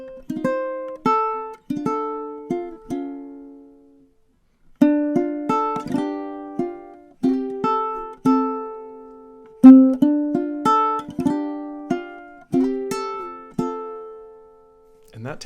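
Ukulele plays a song alone, with clear plucked and strummed notes in a steady rhythm and a short pause near four seconds.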